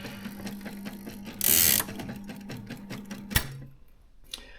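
An Adler Junior electric typewriter with a manual space bar types at a close, quiet level, giving a series of mechanical clacks and a steady motor hum, along with a short loud burst, probably the carriage or bell, and a sharp thump.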